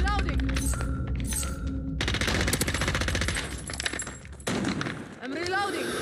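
Rapid automatic rifle fire from an AS VAL in a video game firefight, with dense bursts of shots, clinking casings and thuds, loud and close, alongside brief electronic tones.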